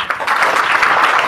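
Audience at a business seminar clapping, a dense burst of many hands applauding together, loud and close in a hall, brief and steady.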